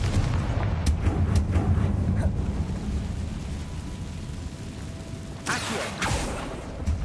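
In Hogwarts Legacy, a Confringo fire spell bursts with a sudden bright crackling blast amid a spider-filled area, standing out briefly over a continuous low rumbling game soundscape, preceded by a few faint distant thumps.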